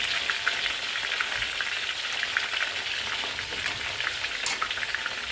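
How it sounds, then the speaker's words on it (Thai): Isan sausages sizzling as they fry in hot oil, a steady crackling hiss with scattered sharp pops, close and moderately loud with no talking. "เมนูวันหยุดวันนี้ ทอดไส้กรอกอีสานค่ะ"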